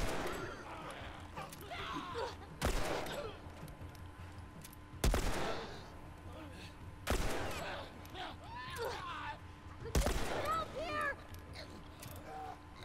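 Four sharp gunshots in The Last of Us, a player shooting at a rope, ring out roughly every two seconds, each a loud broadband crack standing clear of a murky game ambience, with voices talking between and after the shots.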